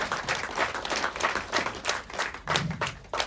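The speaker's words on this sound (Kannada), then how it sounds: "ದಯವಿಟ್ಟು ನನಗೋಸ್ಕರ ಅವ್ರಿಗೊಂದು ಚಪ್ಪಾಳೆ ಕೊಡೋ ಥರ ನಾನು ಕೇಳ್ಕೊತಾ ಇದ್ದೀನಿ" An audience claps in applause, a steady run of hand claps with a rhythmic pulse, moderately loud and without talking.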